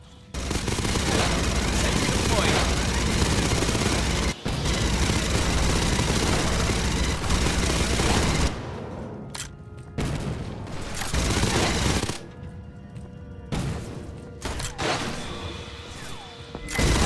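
Sentry guns firing in the video game Aliens: Fireteam Elite, a dense, loud continuous stream of automatic gunfire that later breaks into shorter bursts and thuds.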